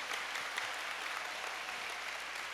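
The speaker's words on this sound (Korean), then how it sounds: "우리 목사님께 큰 박수 부탁드리겠습니다" A congregation claps for the pastor at a clergy revival meeting. The sound is a steady, evenly textured wash of many hands clapping at moderate volume, heard from some distance with no talk.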